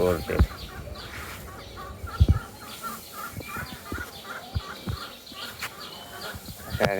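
Chickens clucking nearby in scattered bursts, with sharp knocks and thumps and a busy coop atmosphere around them.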